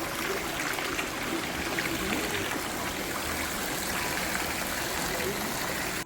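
Water bubbles and churns in an indoor jacuzzi beside a swimming pool at a Swiss village holiday resort, a steady close wash of noise that continues evenly without breaks.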